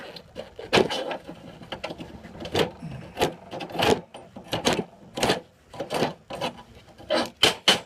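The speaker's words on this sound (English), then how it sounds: "this one's got some stuff that's caked in a little harder, so that still needs to be scraped out" Caked, hardened material being scraped and dug out of a clogged hole, heard as a series of close, irregular rasping scrapes and gritty rubbing strokes.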